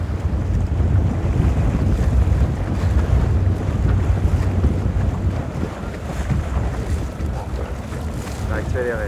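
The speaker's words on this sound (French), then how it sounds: "Le vent, surtout, essentiellement" Strong sea wind buffets the microphone continuously during a stand-up paddle race off Cap d'Agde, a loud low roar with water and board noise underneath, steady throughout with no speech.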